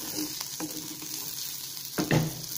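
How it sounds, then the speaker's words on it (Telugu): Stuffed okra fries in a pan with a soft, constant sizzle, close by. A few scrapes and clinks of stirring come through, with a louder clatter near the end. "ఇప్పుడు ఇందులో మనం స్టఫ్ చేసుకున్న బెండకాయలను వేసుకున్నాం కదా, ఇవి కొంచెం ఇలా ఫ్రై చేద్దాం"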